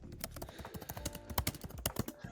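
Rapid, irregular clicking of keys on a computer keyboard, fairly quiet and close, with uneven bursts of keystrokes.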